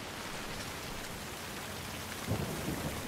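Thunderstorm with rain in the video game The Last of Us Part II, a steady hiss of heavy rainfall with a low rumble of thunder building near the end, with no talking.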